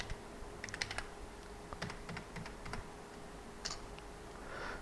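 Fingers typing on a computer keyboard to enter a new password, a quick irregular series of light clicks over a steady background hum, near and fairly quiet.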